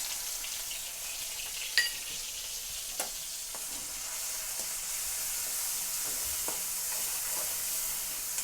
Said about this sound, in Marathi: मी ही दोन हिरव्या मिरच्या घेतलेल्या टाकून घेते तळून घेते त्याला तेलामध्ये